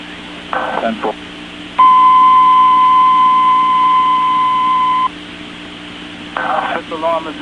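Fire department dispatch alert tones for a fifth alarm at One World Trade Center, sent over a radio: a single loud, steady tone holds for about three seconds, with short bursts of radio chatter before and after.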